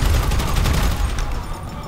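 Dense gunfire from the video game GTA V, a loud continuous burst of rapid shots filling the whole stretch without any talking.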